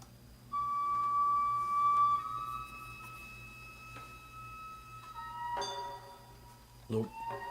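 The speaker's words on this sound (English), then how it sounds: "We listen to this gagaku music. Let's listen a little bit here. First starts with a flute." Gagaku ensemble opening with a sustained, wavering flute line held alone over a low drone, joined later by a struck percussive accent and denser tones near the end.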